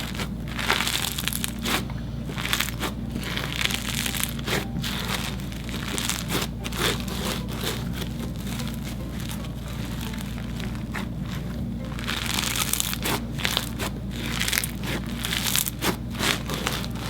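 Store-bought slime loaded with foam beads is squished and kneaded up close, giving a continuous run of crisp crunching, crackling and popping bursts with soft squelches between them.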